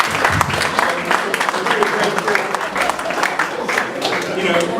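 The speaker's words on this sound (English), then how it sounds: "I think we should all clap to that." Dinner guests at a send-forth event in Abuja clap together in a steady, lively round of applause, with voices and murmurs from the room mixed in.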